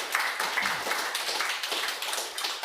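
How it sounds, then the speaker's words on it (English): Applause from an audience at an open house talk, a dense steady patter of hand claps lasting a few seconds at moderate distance, with no voices over it. "Please, a round of applause to both of them"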